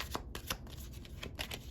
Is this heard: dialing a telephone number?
no